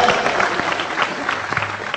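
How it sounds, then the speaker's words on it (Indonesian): Audience applause at a talk and humor gathering, a dense, steady patter of many hands clapping for about two seconds. "Oke, tepuk tangan sekali lagi untuk Faisal."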